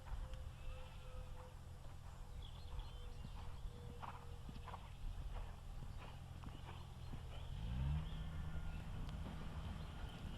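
A ridden horse at a show-jumping yard canters and changes lead, its hoofbeats soft and rhythmic at a distance, with faint background noise and a brief low swell near the end.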